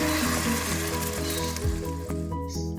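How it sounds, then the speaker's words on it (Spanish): White wine poured into a pan of onion and garlic frying for ropa vieja made from leftover cocido madrileño, giving a steady, close, continuous sizzle with no talking. "Mientras se va cociendo la cebolla y el ajo, vamos cortando los restos del cocido madrileño en pequeños trozos. Añadimos vino blanco."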